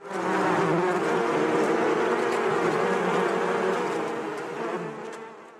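A dense swarm of bees buzzes continuously and loudly, close by, slowly fading slightly toward the end.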